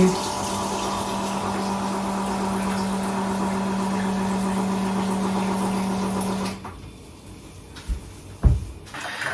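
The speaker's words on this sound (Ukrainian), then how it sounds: "Так, водичку я налила." Water pours steadily into a jar of apples in a home kitchen, a continuous trickling rush with a faint mechanical hum beneath it, then it stops and a few soft clinks and knocks follow close by.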